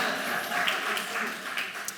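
Scattered clapping from an audience, soft and fairly brief, with a dense patter of hands rising and fading.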